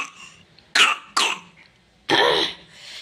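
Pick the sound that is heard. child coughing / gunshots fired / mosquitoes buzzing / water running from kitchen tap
child coughing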